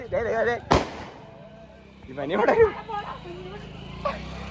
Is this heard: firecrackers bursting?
yes